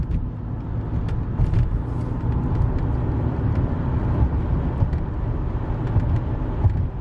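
A Mercedes 300SE W126 cruises along a road with a steady, low engine and road rumble from inside the cabin, a continuous drone with no speech.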